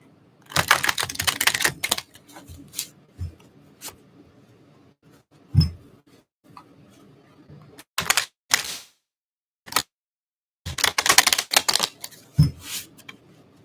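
Repeated bursts of crisp, rapid tarot card shuffling and riffling, close up, separated by short pauses and a few taps on a surface.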